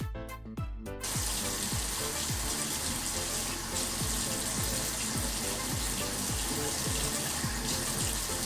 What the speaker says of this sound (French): je vais juste l'humidifier un petit peu avec de l'eau